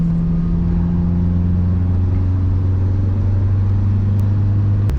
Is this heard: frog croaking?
no